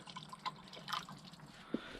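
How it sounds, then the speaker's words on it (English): Water poured into an engine near a leaking oil cooler makes faint, brief splashes and scattered drips against a quiet background. "I'm gonna simulate it, pour some water in there, see if it goes in"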